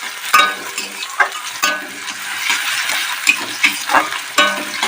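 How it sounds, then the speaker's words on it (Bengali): Chopped onions fry in a pan for a spicy semolina breakfast dish, giving a steady close sizzle broken by irregular clinks and scrapes of a spoon stirring. "পেঁয়াজ কুচি ভালো করে ভেজে নিই।"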